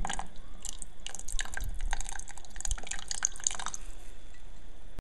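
Red wine vinegar trickles and drips into a pot of barbecue sauce with tomato paste, a steady close liquid pour with small splashes running for several seconds before fading.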